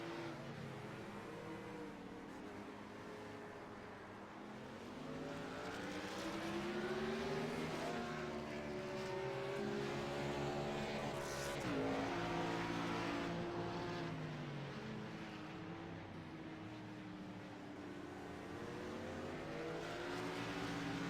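Chevy Silverado race trucks roar around a track, engines droning loud and steady with rising and falling revs as they pass, no voices over them.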